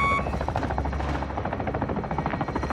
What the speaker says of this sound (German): Feindliche Drohne über uns.